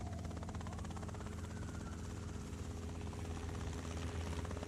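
A helicopter big enough to carry a large load, its rotor and engine drone steady and close, with a dense rhythmic chop filling the whole stretch.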